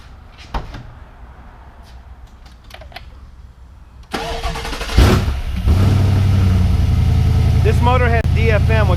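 GM L87 engine with dynamic fuel management and a Type 2 GM pump, sitting unmounted in a shop, cranks and fires, then settles into a loud, steady idle after some clunks and brief voices.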